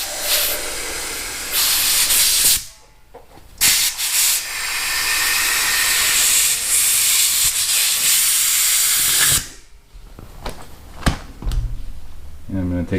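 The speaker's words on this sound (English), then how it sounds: "I'm going to put some air in this tube" Air hisses steadily into the front tire inner tube of a 2006 Ultra Classic motorcycle, a loud continuous broadband rush lasting several seconds, broken by brief pauses and handling noises near the end.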